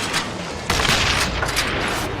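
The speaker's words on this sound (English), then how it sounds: "Oh, I can shoot too!" Loud, sustained gunfire from the Western shooter Call of Juarez: Gunslinger, a dense fusillade of overlapping shots that jumps in intensity partway through and keeps rattling to the end.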